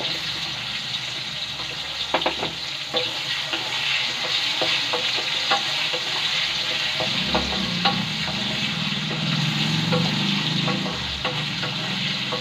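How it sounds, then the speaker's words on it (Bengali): Potatoes frying in a pan, sizzling steadily up close, with repeated light scrapes and taps of a stirring utensil and some faint running water in the background. "আলুটা একটু ভাজা ভাজা হয়ে যাক"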